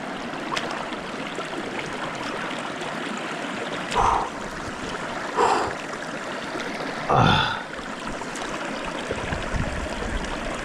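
An ice-cold meltwater stream rushes steadily throughout, a continuous broadband wash, with a few brief vocal sounds standing out on top.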